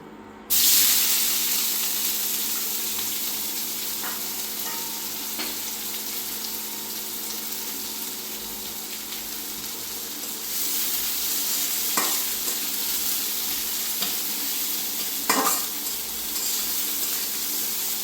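Onions frying in oil in a pan for a potato and eggplant mash, a steady close sizzle with occasional stirring scrapes, rising louder partway through and continuing alone without talk.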